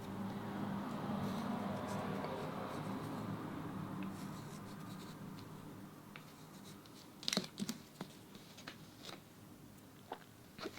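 Pencil drawing on watercolour paper for a botanical piece: quiet scratching and rubbing strokes, soft and close, with a few sharper taps and scrapes in the later half and no talking.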